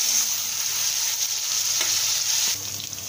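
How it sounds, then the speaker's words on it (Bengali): Chicken pieces fry in hot oil with a dense, continuous sizzle close by, while a spatula stirs and scrapes through them; the sizzle drops a little toward the end. "এখন আমি মাংসগুলোকে ভালো করে নেড়ে চেড়ে একটু লাল লাল করে ভেজে নেব।"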